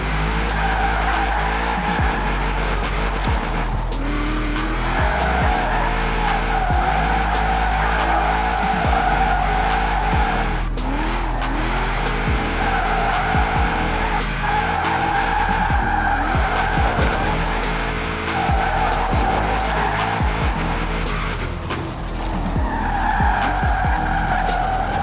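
A Nissan 350Z drifts in Forza Horizon 4 with loud, sustained tire squeal and skidding over a revving engine whose pitch rises and falls through repeated slides, continuous throughout.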